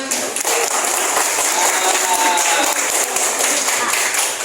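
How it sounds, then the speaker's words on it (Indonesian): A classroom of students claps together in steady, dense applause that lasts throughout, loud and close, with a faint murmur of voices underneath. "kasih tepuk tangan"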